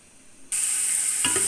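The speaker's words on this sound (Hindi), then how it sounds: "ये देखें माशाल्लाह प्याज कैसे ब्राउन हो रहा है।" Onions browning in cooking oil in a pan burst into a loud, steady sizzle after a half-second of quiet, with a brief stir or scrape near the end.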